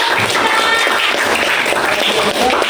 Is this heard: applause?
yes